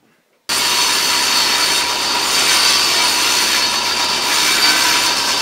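A saw starts abruptly after a moment of silence and cuts through half-inch oak plywood with a loud, sustained, even rasping whine that holds for several seconds.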